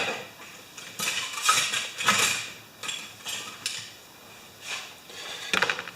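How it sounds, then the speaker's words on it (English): A small screwdriver scrapes and taps while mixing JB Weld epoxy on a hard surface, giving irregular close scratchy strokes and clicks in short bursts, alone with no talking. "I like to use this nice little screwdriver to mix it up"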